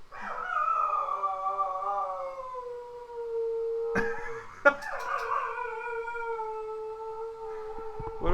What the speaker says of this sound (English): So if there's ever a siren or an alarm, our dog starts singing like this.